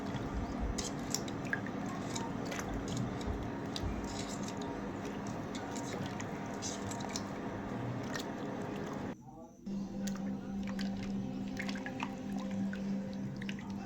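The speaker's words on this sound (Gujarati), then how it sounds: "ગોળને પાણી સાથે સારી રીતે મિક્સ કરી લેવાનું" Jaggery is worked into water by hand for malpua batter, giving close, wet squishing and dripping that runs steadily, pauses briefly, then resumes.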